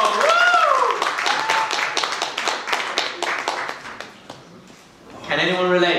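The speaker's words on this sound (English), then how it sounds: "Let's give a round of applause to Theo!" An audience at a motivational talk gives a round of applause, scattered sharp claps building and thinning over several seconds, with a speaker's voice heard before and after the clapping.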